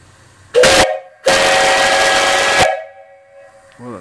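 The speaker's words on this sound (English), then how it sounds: "And then this is a 3-inch, 3-chime whistle." A 3-inch, three-chime steam whistle on a live steam engine boiler in an off-grid setup gives two loud, close blasts: a short one, then a longer sustained blast that trails off into a hiss.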